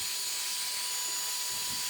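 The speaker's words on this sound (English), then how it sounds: "It acts as a leaf blower, as a duster for your electronics." A handheld electric air duster blower runs with a steady, loud airy hiss and whoosh throughout, alone, with no talking.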